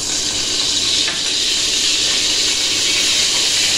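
Oil is poured into a hot pan for chicken jalfrezi, giving a loud, steady, close hiss that holds evenly throughout with no pauses.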